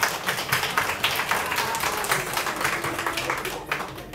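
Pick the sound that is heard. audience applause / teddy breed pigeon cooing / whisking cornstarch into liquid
audience applause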